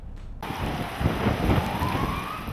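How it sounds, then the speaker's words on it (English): Heavy rain pours steadily with rumbling thunder during a monsoon thunderstorm in the Imperial Valley, a loud continuous wash with low booming swells and no voices. "Strong winds, a massive amount of rainfall, and some even reported seeing and hearing hail."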